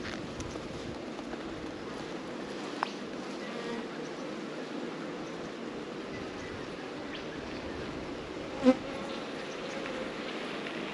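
A steady, low buzzing drone of honeybees surrounds an open, calm hive as a frame is lifted out, constant and close with no talk, broken only by a faint click or two.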